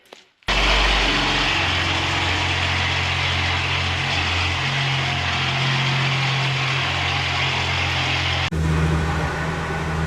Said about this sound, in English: As you can see, the car is running sweet.